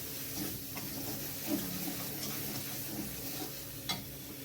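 Coriander and spices frying in a pan while a metal spatula stirs them, with a steady sizzle and occasional scraping strokes against the pan, close and without talk.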